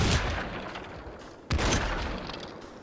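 Rapid bursts of gunfire from a rifle with a scope in the VR shooter game Population One: dense, loud crackling shots stacked closely together, with a sharp fresh volley near the midpoint and no talking over them.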